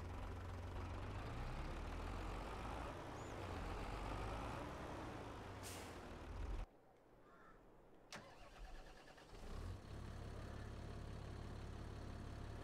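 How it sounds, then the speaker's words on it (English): A tractor engine in Farming Simulator 22 runs on the Elmcreek map, giving a close, steady, low rumble that drops out briefly midway and then picks back up. "I'm actually going to use the other tractor."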